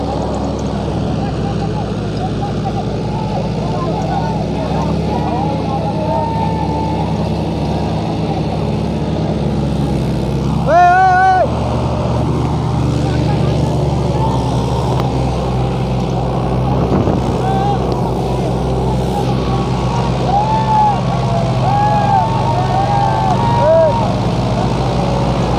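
John Deere 5042 D and Mahindra 575 DI tractors run through a village demonstration in Riyawali, Muzaffarnagar, their steady engine drone continuous and fairly loud, with people talking over it throughout.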